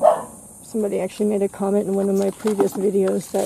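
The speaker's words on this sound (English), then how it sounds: "that's my neighbor's dog." A neighbor's dog barks repeatedly in a quick, rhythmic run of barks, fairly close and loud, while a person talks at the same time.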